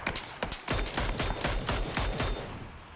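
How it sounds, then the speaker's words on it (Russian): Rapid bursts of gunfire from PUBG, a battle royale shooter, with repeated loud close shots in quick irregular volleys throughout, no talking. "Вот это он стрелял, клоун."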